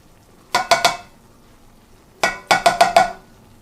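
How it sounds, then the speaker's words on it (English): Mushrooms are dropped and stirred into a pan of cheesy beef dip, giving two clusters of sharp clattering knocks, three and then five in quick succession, close and fairly loud over a faint background. "Now at this point, I'm going to add my mushrooms in here."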